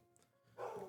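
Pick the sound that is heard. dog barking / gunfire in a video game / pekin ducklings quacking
dog barking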